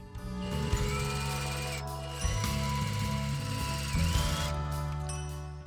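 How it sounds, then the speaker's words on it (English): A sewing machine stitches the center seams of cloth mask pieces, lining and outer pieces together, running in a steady continuous whir that pauses briefly and restarts, close and fairly quiet. "sewing the front of the lining pieces together and the outside mask pieces right sides together down the center seams"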